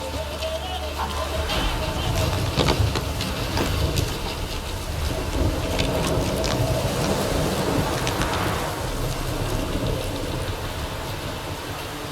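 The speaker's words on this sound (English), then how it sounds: "Stop raining, my arse will rot off." Steady rain falling in The Witcher 3: Wild Hunt, a continuous broadband hiss of rainfall with scattered louder drops and a faint low rumble throughout, heard alone without talk.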